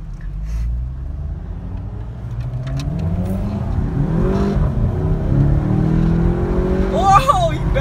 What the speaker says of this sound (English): he backfired like crazy